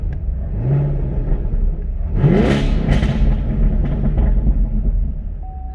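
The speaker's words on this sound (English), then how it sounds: "As you flip through your modes, your exhaust note changes." A car's dual-mode exhaust in its quiet Tour setting gives a low, muted rumble from inside the cabin, swelling briefly as the engine picks up speed and then easing back to a soft drone.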